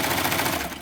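Serger sewing machine running an overlock stitch on a pair of shorts, a loud, steady rapid mechanical chatter that holds continuously and eases slightly near the end.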